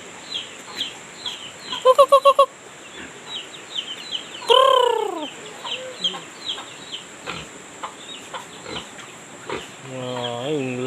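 Chickens cluck and squawk nearby in short bursts, with a rooster-like call and scattered farmyard bird noises.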